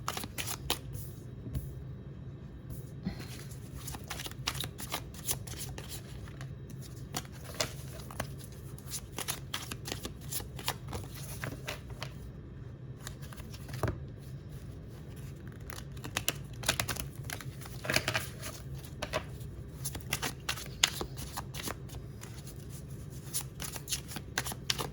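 A deck of forest-themed oracle cards shuffled steadily by hand, close and fairly quiet, with continuous papery slides and flicks over a low background hum and no speech.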